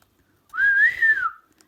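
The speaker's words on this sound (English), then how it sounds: "Rose puts two fingers to her lips and whistles." A single rising-and-falling whistle made with two fingers to the lips, lasting under a second, loud and close with no other sounds around it.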